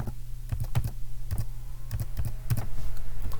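Keys tapped on a computer keyboard to enter a number, a quick run of distinct clicks in small bursts, close and fairly loud, with a low steady hum underneath and no talking.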